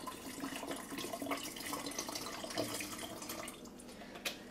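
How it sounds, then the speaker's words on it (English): Water pours from a bottle for homemade detox water, a quiet, continuous splashing trickle with no voices. "now I'm just going to pour my bottle of waters"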